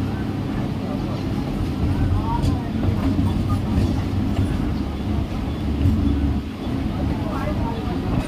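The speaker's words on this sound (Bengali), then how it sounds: "ট্রেন এগিয়ে আসছে।" A train drawing toward a platform at Sealdah station, a heavy continuous low rumble and rolling clatter that stays loud and close, with voices on the platform underneath.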